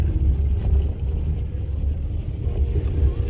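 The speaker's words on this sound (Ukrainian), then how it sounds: "колонна с машинами идет" Convoy of cars driving out of a town under shelling, a steady low rumble of engines with road noise, fairly loud and continuous with no talk.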